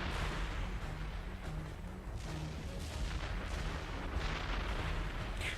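Rumbling explosions and gunfire-like blasts in the video game Damnation, in an area called Boomtown, forming a dense, continuous roar with booming hits throughout.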